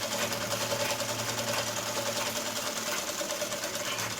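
A sewing machine stitching the lining of a kids' boutique-style lehenga runs in one steady, close, continuous whirring hum with rapid needle vibration and no pauses or voices.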